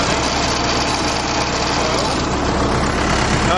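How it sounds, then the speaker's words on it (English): A tractor engine runs steadily with its dual-speed PTO engaged at the 1,000 RPM setting to drive a flail mower, giving a loud, dense, unbroken mechanical drone throughout. "Here is the PTO clutch. Slowly engage that."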